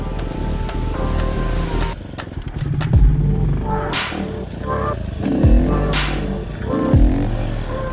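A motorcycle engine revs and surges during repeated wheelie practice runs, rising throttle blips and clattery bursts up close, with the engine dropping and picking up again several times.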